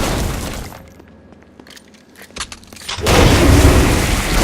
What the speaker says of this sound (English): After they're petrified, you can use your pistol to shatter them.